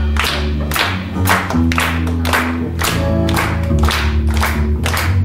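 A congregation at a praise band service claps along in a steady beat, each clap broad and loud over sustained worship music with low bass and chords.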